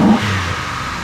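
A car engine with a newly fitted cold air intake growls through a short, low rev close by, a brief rise in pitch that then settles, with no voices.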